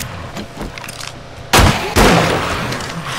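Gunfire from a weapon in the survival video game 7 Days to Die, Alpha 21: two loud, close shots about half a second apart, each sharp crack trailing into a long roar, after a quieter ambient stretch.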